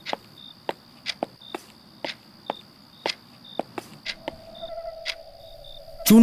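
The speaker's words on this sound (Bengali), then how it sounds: "বেশ খানিকক্ষণ ওয়েটিং রুমের এদিক ওদিক পায়চারি করতে লাগলেন" A man paces back and forth in a waiting room, his footsteps landing in a steady, evenly spaced rhythm, with a high insect chirp running in the background.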